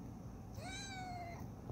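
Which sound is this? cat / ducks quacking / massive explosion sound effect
cat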